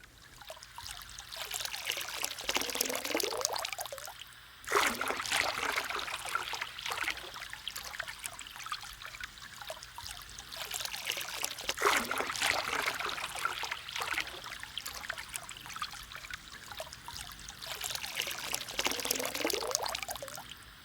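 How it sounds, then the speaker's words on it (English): A small forest river in a prehistoric animal simulation game rushes and splashes steadily and close, swelling and easing in several long waves across the whole stretch with no voices. "Gigabyte has discovered a small river in the forest, a valuable landmark to know of."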